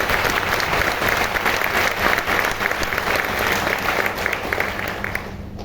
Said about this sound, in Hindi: और जोरदार तालियां होनी चाहिए